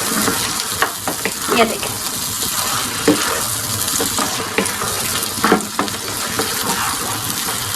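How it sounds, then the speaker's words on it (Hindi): Mutton karahi being stir-fried in a wok-like karahi during bhunai, with a steady loud sizzle and repeated scraping stirs of the spoon against the pan; a brief voice speaks near the start. "आपने भुनाई बहुत अच्छे से करनी है"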